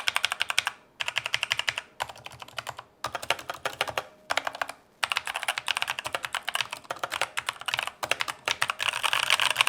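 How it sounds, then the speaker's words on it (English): Fast typing on a Redragon mechanical keyboard fitted with brown switches: dense, crisp clacking keystrokes in quick bursts with brief pauses, close up and with no voices. "This is how it sounds with brown switches."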